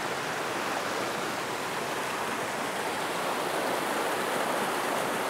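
A forest waterfall pours in a steady, dense rushing roar, constant and even throughout, with no voices or other sounds.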